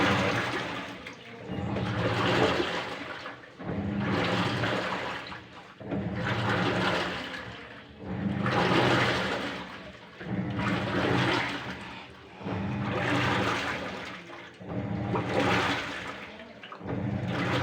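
Water pours out of a washing machine during a gearbox repair, a loud rushing gush that surges and fades in about eight regular pulses, close by and with no voices.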